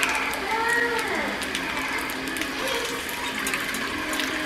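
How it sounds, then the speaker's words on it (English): Water is poured into a pot of vegan broth made with bouillon base, giving a steady gushing, splashing fill that runs without pause for about four seconds, fairly close and loud, with no talking. "I just added my better than bouillon and some water."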